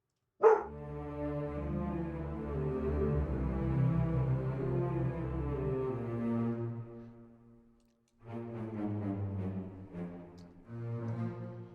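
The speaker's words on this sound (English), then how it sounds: "it's hard to hear that note with the dog barking" A dog barks and howls in long, drawn-out tones that swell and fade, fairly loud and alone, pausing briefly before resuming.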